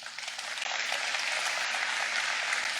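A church congregation applauds during a sermon on eternal salvation. The clapping is a steady, even wash of moderate loudness that carries on for a few seconds with no voices over it.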